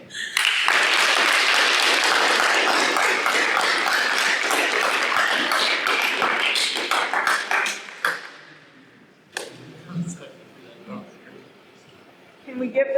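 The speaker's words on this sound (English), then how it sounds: "Can we give them another round of applause" Audience applause at a youth graduation ceremony, dense loud clapping for about eight seconds that then thins into scattered claps and quiet room noise.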